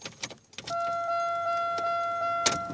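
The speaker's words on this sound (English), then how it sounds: "put the keys in the ignition" Car keys jangle and slide into the ignition of an Oldsmobile Alero with a hard-starting problem, followed by a steady two-tone key-in warning chime that holds alongside a few more faint clicks.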